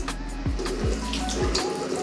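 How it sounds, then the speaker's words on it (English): A bathroom tap runs steadily into a sink while hands cup water to wet the face. Close, soft splashes land over the constant stream, with no talk. "So we're gonna start with just first wetting the face"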